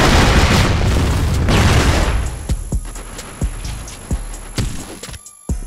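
A grenade blast in a video game opens with a loud, dense rumbling roar, followed by a series of sharp separate cracks and thuds that fade into quieter gaps.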